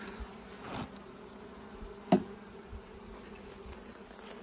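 Honeybees hum faintly and steadily at the front of a hive, their soft drone running throughout with one brief close knock midway and no voices.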